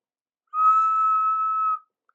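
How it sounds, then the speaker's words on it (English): A train guard's whistle blows one steady, shrill blast of about a second and a quarter, clear and alone, then cuts off sharply, signalling the engine Gordon to depart. "At last, Gordon heard the whistle."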